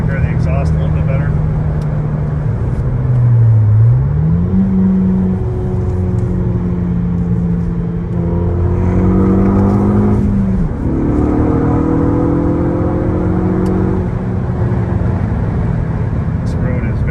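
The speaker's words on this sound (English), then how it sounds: "Sunroof vented, so you can hear the exhaust a little bit better." Exhaust of a 2013 Ford Focus ST3 accelerating on a curvy road, heard from inside with the sunroof vented: a loud, close engine drone rising and falling in pitch through gear changes, with a voice talking over it.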